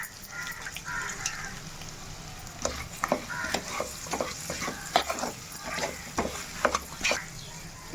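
Potatoes with salt are stirred in a hot pan, a rapid series of close scraping and clattering strokes over a low frying sizzle.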